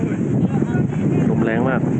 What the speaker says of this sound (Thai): ลมแรงมาก